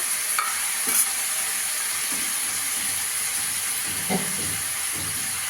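Ginger-garlic paste sizzles in hot oil in a pan while a utensil stirs it for chicken kosha, a steady hiss broken by a few scraping knocks. No one speaks.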